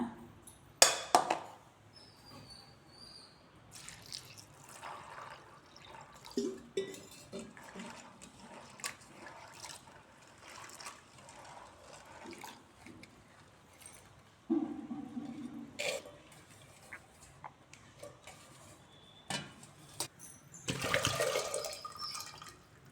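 Water splashes and sloshes intermittently as soaked field beans are rinsed by hand in a bowl or sink, fairly quiet with scattered clinks.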